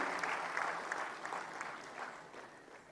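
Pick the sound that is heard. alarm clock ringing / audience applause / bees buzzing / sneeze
audience applause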